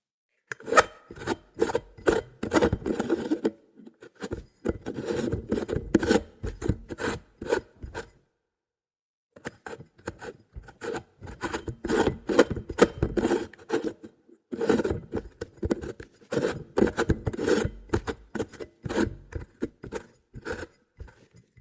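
Repeated dry rubbing and scraping taps in quick bursts as a light bulb is handled, close and crisp, with a short pause in the middle before the handling noises resume.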